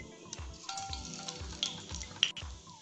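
Bay leaves dropped into hot oil in a pan for a chicken dish sizzle and crackle steadily, with a few louder pops and stirring scrapes close by.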